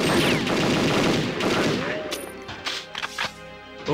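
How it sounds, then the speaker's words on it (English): Enemies open fire with guns in the shooter game Perfect Dark, a loud burst of rapid overlapping shots that thins into a few scattered reports and impacts. "Are they gonna start shooting?"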